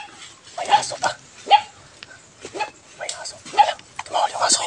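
A dog barks and yips in several short bursts spaced about a second apart, close and fairly loud, with people talking quietly around it.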